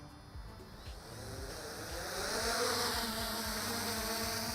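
A quadcopter drone's motors arm and spin up for takeoff, a buzzing, insect-like whine that rises and grows louder and steadier partway through, heard close with no talking.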